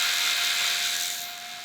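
A countersink bit cuts into a drilled strap-button hole in a wooden electric guitar body, giving a steady, close grinding rasp with a thin whine that eases off slightly near the end.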